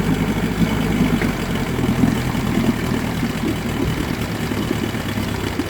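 Mariner outboard motor idling in gear while it has a fault of dying in gear and starting hard, a loud steady throbbing close up with an uneven low rumble throughout and no voices.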